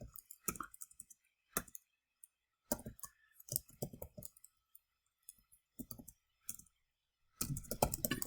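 Bursts of computer keyboard typing with quick clustered key clicks separated by short pauses, close and fairly quiet, ending in a longer, denser flurry of keystrokes.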